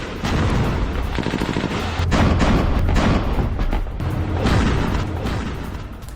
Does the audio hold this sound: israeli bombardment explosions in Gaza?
yes